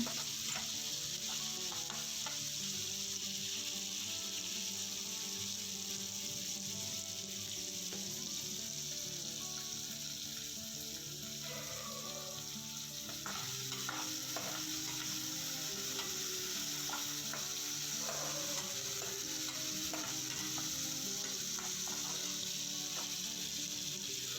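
Poha upma ingredients fry in a pan with steady close sizzling and occasional stirring scrapes, continuous throughout with no talking.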